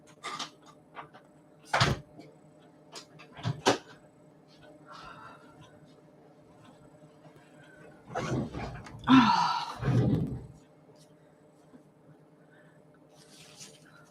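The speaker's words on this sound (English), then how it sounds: "I'm going to close the door" A door in a home on a chilly 41-degree day is pushed shut, giving a few scattered knocks and a clustered thud of closing, with faint room noise between.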